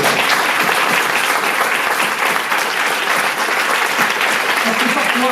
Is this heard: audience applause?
yes